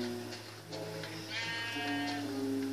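Sheep bleating in the Minecraft video game, a few wavering game-sound bleats over a steady background hum, fairly close and clear with no talk.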